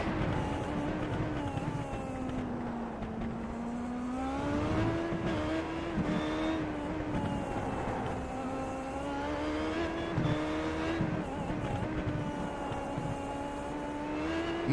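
An IndyCar race car on an onboard lap at Belle Isle during a Classic IndyCar Series round, its engine whining steadily and close, pitch rising and dipping through gear changes and corners across the whole stretch.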